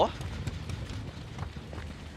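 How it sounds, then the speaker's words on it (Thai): Quick running footsteps patter in the game Dead by Daylight, a rapid series of soft thuds over a short stretch, with voices talking at the same time. "มีเสียงเท้าวิ่งกลับมา"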